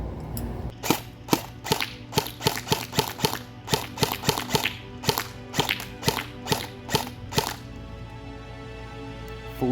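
A Cybergun M1A1 Thompson airsoft submachine gun fires a rapid string of sharp, crisp cracks at a steady rhythm, close and alone, then stops near the end.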